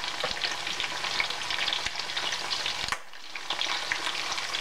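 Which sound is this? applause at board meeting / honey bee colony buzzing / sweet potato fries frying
sweet potato fries frying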